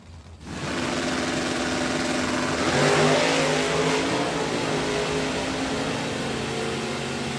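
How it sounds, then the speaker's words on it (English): A Super Stock drag race car launches hard at a Division 3 LODRS event, a loud, sustained engine roar that swells after a short quiet start and holds strong, heard from close by. "Pretty nice wheel stand for Randy Running."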